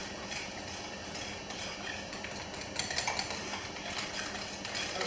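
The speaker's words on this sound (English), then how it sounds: "Now that I have all the ingredients in my bowl here, I just gently mix them together." Tempura batter ingredients being gently mixed in a bowl, soft repeated clinks and scrapes of a utensil against the bowl over a steady background hum, light and close.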